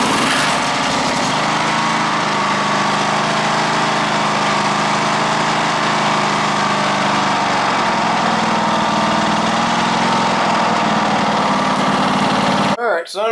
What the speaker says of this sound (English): I don't know if you heard that little tick in the motor.